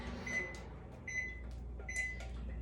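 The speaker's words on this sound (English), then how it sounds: "Sounds like our sweet potatoes are done already in the microwave." A kitchen microwave oven finishes cooking sweet potatoes with three short electronic beeps, spaced evenly over a low room hum.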